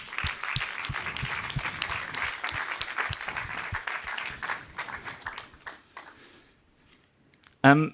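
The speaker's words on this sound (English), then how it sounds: "let's give some applause for the jury" Crowd applauding the jury at a climate pitch awards ceremony, a dense burst of clapping that rises at once, holds for several seconds and then thins and fades out, followed by a brief loud knock near the end.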